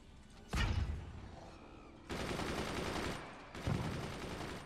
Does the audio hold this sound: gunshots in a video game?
yes